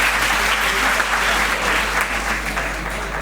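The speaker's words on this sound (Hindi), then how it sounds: "जोरदार ताली बजाएंगे बच्चों के लिए।" Loud, sustained applause from a seated audience of children and officials at a motivational talk, steady clapping filling the room without break for a few seconds.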